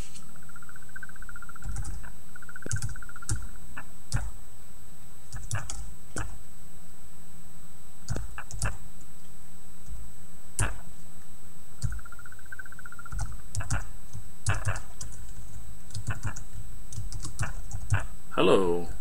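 Computer keyboard keys clatter in irregular bursts while code is typed into a C# WPF program, with mouse clicks mixed in and a quiet voice speaking at times; the keystrokes are close and crisp.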